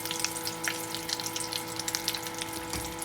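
Chicken-stuffed potato chops frying in hot oil, a steady close bubbling sizzle with dense crackling pops and a faint low hum underneath, with no voices.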